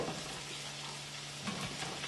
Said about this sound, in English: my potatoes and onions are starting to sizzle